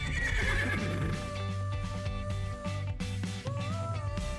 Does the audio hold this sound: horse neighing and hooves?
yes